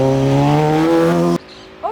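A 1000cc stunt motorcycle pulls away loudly, its engine note climbing in steady harmonic sweeps before cutting off abruptly, leaving a brief quieter tail with a faint chirp.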